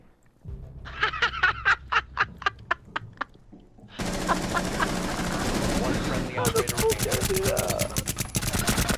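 Rapid automatic gunfire in Rainbow Six Siege rattles in quick bursts, then gives way to a dense, loud stretch of continuous shooting and game noise, with a player talking over it.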